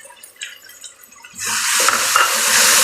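Red chili powder, turmeric and salt hit a hot pan for chicken mash daal; after a quiet start with faint stirring, a loud, steady sizzle bursts in midway and continues to the end.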